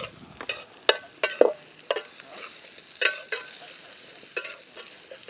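Garlic, onion and chillies fry in a pan outdoors for a meat curry, a faint sizzle under sharp, irregular scrapes and clicks of a spoon stirring against the pan.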